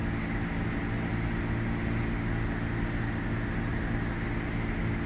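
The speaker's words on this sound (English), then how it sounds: "I'm in the middle of trying to land a plane." A steady, unbroken propeller-aircraft engine drone from a plane landing in the Flight Simulator 2002 video game, fairly loud and constant, with no talking.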